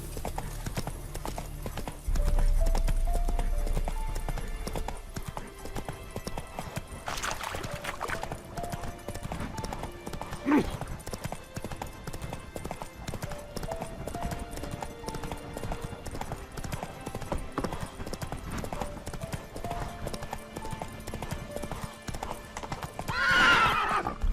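Hooves of a horse in The Witcher 3 clip-clop steadily at a gallop, with a neigh or whinny breaking through partway, set against soft game ambience and music.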